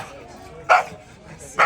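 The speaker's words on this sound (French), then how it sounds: "Il est excité un peu parce qu'il y a d'autres chiens là." An excited dog gives two short, sharp barks close by, spaced about a second apart, with quieter background noise between them at an outdoor overland show where other dogs are nearby.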